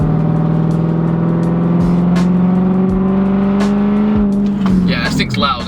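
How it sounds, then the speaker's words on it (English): A loud, throaty V8 engine with a straight-pipe exhaust in a 1999 Lexus LS400 drones steadily and then rises in pitch as it revs, close and continuous throughout. "That straight pipe on the V8 is just insane."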